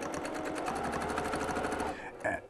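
A sewing machine stitches steadily through a quilt during free-motion quilting, a fast continuous rhythmic hum for about two seconds that stops abruptly, followed by a brief soft handling sound.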